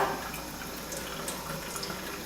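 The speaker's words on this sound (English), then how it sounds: "Just wet the brushes very quickly." Makeup eye brushes are quickly dunked and wetted in water, making soft, close splashing and trickling sounds with small drips.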